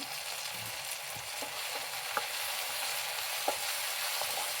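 Tomato frying with golden-brown onions in a pan for a ladies-finger dish, a continuous close hissing sizzle with a few faint spoon taps, no voices.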